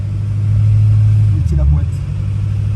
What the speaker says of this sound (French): J'ai commencé à accélérer.